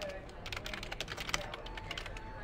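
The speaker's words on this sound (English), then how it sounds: "So you can hear me typing up here," Rapid, uneven keystrokes on a computer keyboard, close and continuous, with soft clicks pattering throughout over a low background hum.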